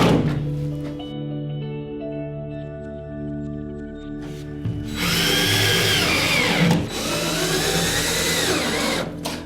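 A power drill drives screws into plasterboard on a stud wall. A rising motor whine gives way to a loud, strained grinding as each screw bites, close up and with no talk.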